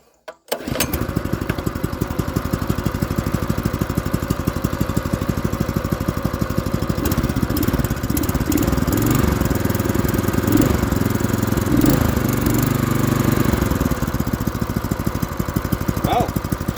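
A Honda GX clone small engine fires after a brief pull and runs steadily with its choke on, a loud, close, continuous rough chugging that holds evenly throughout with no talk over it.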